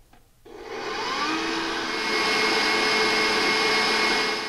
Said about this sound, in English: put them in with the mixer, put it on medium low until they're nice and frothy